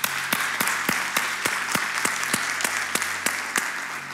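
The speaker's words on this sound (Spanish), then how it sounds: "Le damos un fuerte aplauso." A church congregation gives a welcome at a Spanish-language service, heard as a regular, steady rhythm of sharp claps, about three per second, over a low constant hum, close and moderately loud for four seconds.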